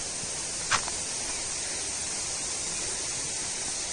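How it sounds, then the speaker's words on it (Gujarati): Steady broadband rush of water from the Medha waterfall in a forest near Songadh, a continuous hiss filling the background with one brief faint knock early on. "અવાજ સાંભળો તમે પાણીનો"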